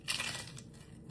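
A crunchy bite into Buldak noodles with butter chicken, a short crisp crackle up close that starts loud and fades over about a second, with no talking.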